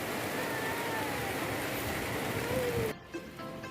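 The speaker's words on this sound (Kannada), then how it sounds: "ಇಲ್ಲಿ ಕೂಡ ಮಳೆ ಬರ್ತಾ ಇದೆ" Rain falls steadily in Gulbarga, a dense close patter with a faint passing tone, cutting off abruptly near the end to quieter background.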